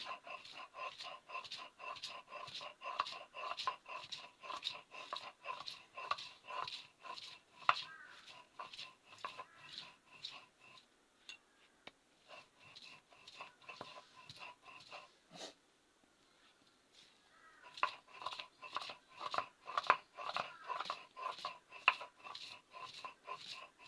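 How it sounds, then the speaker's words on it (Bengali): Thankuni (pennywort) leaves being ground for bharta make a soft, steady rhythm of repeated scraping strokes in long runs, broken by a few short pauses, fairly quiet and close. "এবার আমি শাকগুলোকে বেটে নিচ্ছি।"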